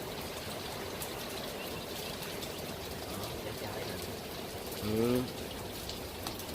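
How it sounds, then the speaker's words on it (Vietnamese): Rain drips onto a corrugated metal roof in a soft, steady patter that continues throughout, with a person briefly murmuring a short reply partway through. "Nhà có mái tôn nữa nè, mưa nó giọt nghe lụp bụp đã."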